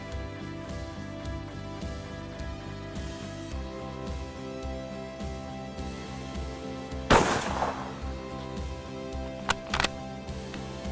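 A single loud Arisaka Type 99 rifle shot cracks out over steady background music, followed a couple of seconds later by a pair of sharp metallic clacks from the bolt.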